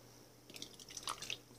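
Water is poured into a tarantula's water bowl, giving faint trickling and dripping splashes that start after a quiet moment and continue softly over low background hum.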